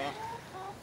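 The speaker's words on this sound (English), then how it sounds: "this laced Wyandotte is called Ranger, but it's just one of the noisiest" A laced Wyandotte hen clucks in a short, soft burst of throaty calls close by.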